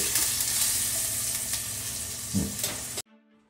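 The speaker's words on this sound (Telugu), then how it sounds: "కొంచెం సాఫ్ట్ అయ్యేంత వరకు, టొమాటో కొంచెం సాఫ్ట్ అయ్యేంత వరకు మనం ఇలా కలుపుతూ ఉండాలి" Tomatoes stirred with a spoon in a hot pan, a steady sizzle and frying hiss with scraping stir strokes, close and loud, cutting off abruptly near the end to near silence.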